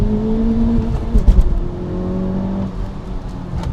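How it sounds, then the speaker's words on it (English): A 2019 Honda Civic Type R hot hatch engine drones steadily at close range, rising and falling with a brief throttle blip midway, with no talk over it. "you get this beautiful sound out of this engine"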